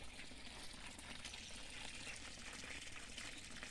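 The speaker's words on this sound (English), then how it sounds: "Isn't that water, isn't it lovely?" Water trickling steadily in a back garden early in the morning, a soft continuous wash of flowing water with no voices, fairly faint and even throughout.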